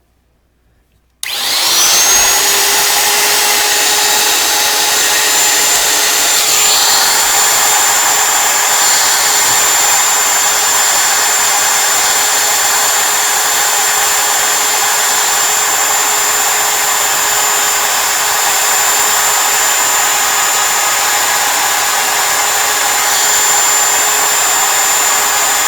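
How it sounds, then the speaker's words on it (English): A woodworking router cuts inset letters into a wooden board, a loud, steady motor whine with a high pitched tone that starts abruptly and holds almost unchanged throughout, with no talking. "I gotta wait for that router to stop making noise."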